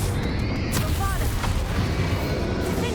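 Bombarda blasting spell in Hogwarts Legacy, a dense roaring explosion burst with crackling debris and magical whooshes layered over busy combat noise, loud throughout.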